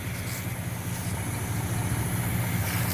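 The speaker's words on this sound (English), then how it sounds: "Thing just runs beautiful, this car." A Pontiac Firebird with a low-mileage small-block V8 idles after a cold start, giving a steady low rumble with an even throbbing pulse. It sounds close and continuous, growing slightly louder, and no one talks over it.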